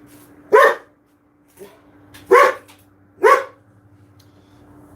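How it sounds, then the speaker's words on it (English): A dog barks three sharp times at close range, with pauses between barks and a faint steady hum underneath; no one speaks. "Now he'll bark for 5 minutes because he's annoying."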